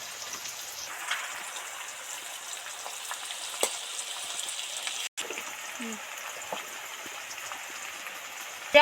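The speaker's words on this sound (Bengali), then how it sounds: "ঢ্যাঁড়স তো নেড়ে চেড়ে ডিপ ফ্রাই করে ভেজে নিলাম" Okra deep frying in hot oil, stirred now and then, gives a steady close crackling sizzle with occasional louder pops and a brief clatter near the end.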